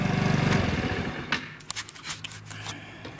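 A Chinese motor scooter engine idles close by, running a little rich with a high idle, its steady buzzing putter loud at first, then giving way to uneven sputters and knocks.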